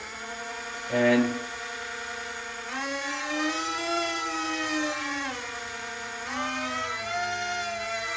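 Small electric motor of a Park10 Toys P520 A380 2CH 350mm EPP RC airplane whirs on throttle, a close, steady whine whose pitch rises and falls with the stick; a voice speaks briefly early on.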